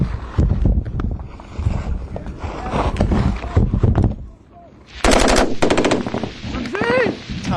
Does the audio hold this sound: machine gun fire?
yes